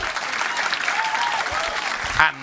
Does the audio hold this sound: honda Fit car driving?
no